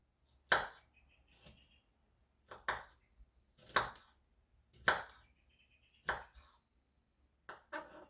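Garlic cloves are chopped with a knife on a board in sharp, separate close taps, about seven cuts spaced roughly a second apart over quiet background, with no talking.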